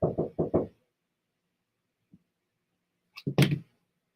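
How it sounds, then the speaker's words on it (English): Knocking on a door indoors: a quick burst of four knocks, a long quiet gap with one faint tap, then a second louder cluster of knocks, close and crisp with nothing else heard. "Oh, that was somebody knocking on my door."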